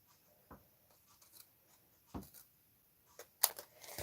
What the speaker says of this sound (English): I'm going to snip this off